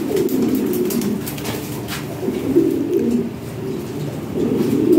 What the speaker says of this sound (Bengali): অনেক সুন্দর সুন্দর কবুতর আছে আজকের প্রতিবেদনে